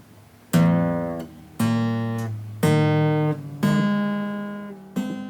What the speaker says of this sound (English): We realized that using solenoids creates guitar tapping